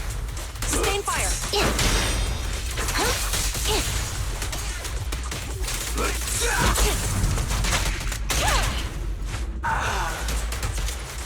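Sustained automatic gunfire in the video game Zenless Zone Zero, dense rapid bursts mixed with whooshes and impacts running throughout, with a voice speaking over the combat.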